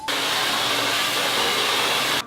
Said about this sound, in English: all you gotta do is use the hair dryer.